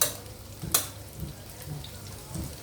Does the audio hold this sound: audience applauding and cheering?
no